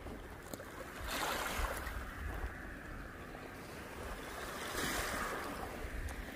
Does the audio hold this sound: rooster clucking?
no